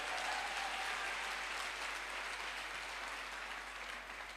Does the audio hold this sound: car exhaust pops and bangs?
no